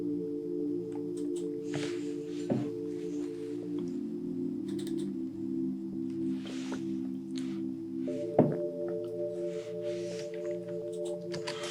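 Sustained Poly 6 synth chords in a Private School Amapiano FL Studio 24 production, low cut and compressor applied, layered pads shifting pitch every few seconds with soft percussive ticks on top, steady and alone.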